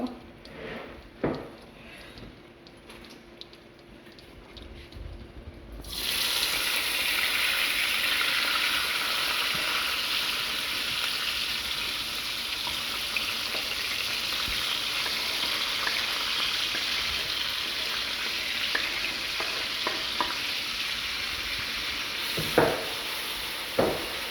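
Sauce with bell pepper frying in a pan, a quiet start giving way to a steady, close hiss of sizzling that continues with occasional scraping stirs and light clinks.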